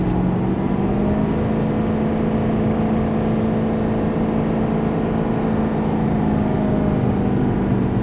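A Ford F350 Powerstroke diesel pickup towing downhill on a grade with its exhaust brake engaged, giving a steady loud droning engine hum that holds its pitch throughout, with no talk.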